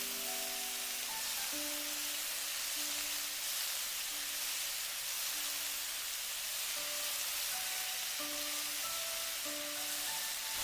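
Minced meat stir-frying with oyster sauce in a wok for Thai-style basil pork makes a dense, constant sizzle from start to finish, with gentle music playing underneath.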